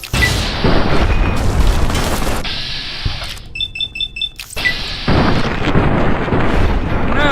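Plasma grenade blasts in Fallout New Vegas (Tale of Two Wastelands): loud, booming explosions with heavy low rumble, broken by a short quieter gap of rhythmic electronic beeps before the roar resumes.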